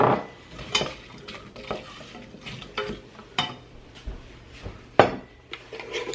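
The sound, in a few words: cooking chopped apple in melted butter in a pan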